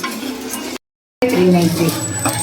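Whole garam masala spices, including dried red chillies, are dry-roasted in a pan at home. A utensil stirs, scrapes and clinks against the metal, a faint sizzle runs underneath, and the sound breaks off completely for a moment partway through.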